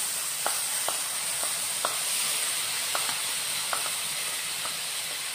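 Macaroni frying in a pan, a steady hiss and sizzle throughout, with light, scattered clinks and taps at irregular intervals.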